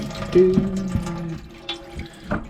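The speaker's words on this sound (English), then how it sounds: "So let's take her over to the spigot and see how she beads, shall we?" Water from an outdoor spigot splashes over a waxed old boot, a close, uneven gush and patter of liquid with small drips, heard alone without talk.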